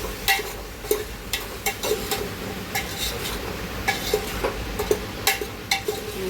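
A spoon scraping and stirring salt through vegetable curry in a pan, with repeated clinks and scrapes over a low steady sizzle, close and fairly loud, no talking.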